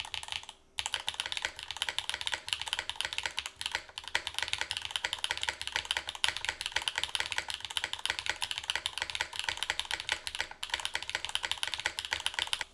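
Steady, fast typing on a wooden prototype mechanical keyboard with early, lightly lubed SWK switches and GMK keycaps: a dense stream of soft, close key clacks with a few brief pauses, and no talking.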